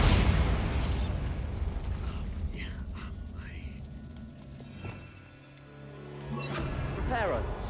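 A Bombarda explosion spell bursts in Hogwarts Legacy, a loud blast with rumbling low-end debris and crackling effects that fade, then swell again near the end amid game sound.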